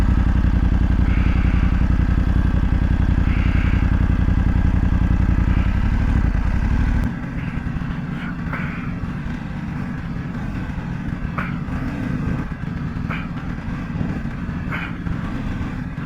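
A 2025 BMW F900GS motorcycle turns around on a dirt mountain road, its engine idling loud and close before dropping to a lower, rougher idle with scattered clatter of tires on gravel.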